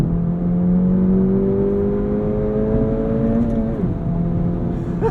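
An Acura Integra Type S engine with its active valve exhaust opened up, a loud steady droning note that holds, then drops as the revs fall near the end, heard from inside the car with no talking.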